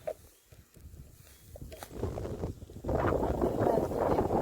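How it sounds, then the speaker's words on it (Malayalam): Strong outdoor wind gusts roar into the microphone, starting quieter with scattered knocks and building to a loud, steady buffeting rush. "ഭയങ്കര കാറ്റാണേ, നമ്മളെടുത്തുകൊണ്ട് കാറ്റ് പോകും, അങ്ങനത്തെ കാറ്റാണ്"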